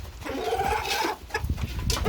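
Chickens cluck and squawk close by in a short, busy burst, with a few sharper calls standing out near the end.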